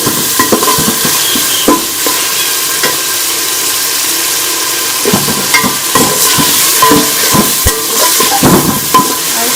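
Tomatoes and green chilies tumble into frying pulao masala in a pan, setting off a steady close sizzle and hiss with repeated sharp scrapes and stirring clatter throughout.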